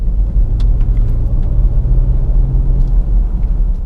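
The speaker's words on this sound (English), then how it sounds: "You always get this lovely V8 mumble" The supercharged V8 of a 2019 Jaguar F-Pace SVR, exhaust valves closed, gives a steady, deep, muted mumble heard from inside the cabin, a constant low rumble with light ticks over it.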